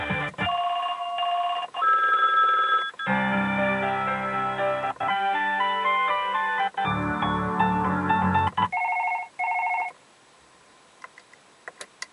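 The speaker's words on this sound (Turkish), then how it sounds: "Bu zil sesi aracın hoparlörlerinden çıkmakta ve çok çeşitli seçenekler bulunmakta." An electronic melodic ringtone plays loudly through a car's speakers from a Volkswagen RNS 310 system, in stepped tonal phrases, changing patterns several times before cutting off, followed by a few faint ticks.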